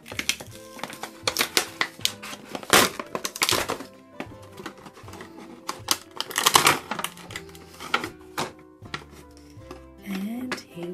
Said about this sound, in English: I'll just take it out of its packaging